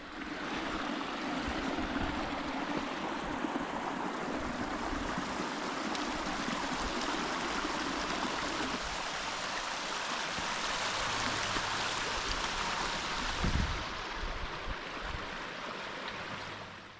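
Water rushing steadily over rocks in a stream on Pendle Hill, a continuous broad hiss with a slight rise and fall, nearby and alone.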